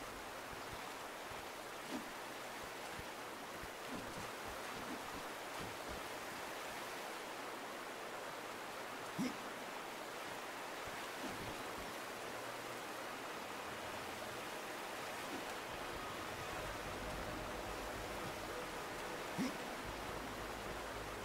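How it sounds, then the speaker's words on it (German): A waterfall in the video game Darksiders 2 rushes as a steady, fairly faint broadband roar, with a few soft clicks and no talking. "Und hier ist ein Wasserfall."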